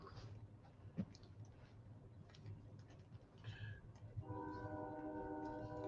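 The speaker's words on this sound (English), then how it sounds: "If that train was there, I'm a block from the tracks." A train passing about a block from the railroad tracks, a distant rumble with a sustained horn blast toward the end, faint and alone.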